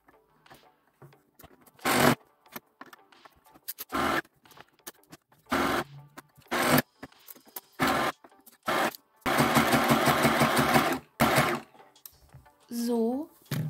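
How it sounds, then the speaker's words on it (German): A sewing machine stitches a scrunchie in short bursts of rapid mechanical whirring, with one longer run in the middle, between pauses filled with fabric handling and a person speaking quietly. "So, jetzt kann ich wieder weiter nähen."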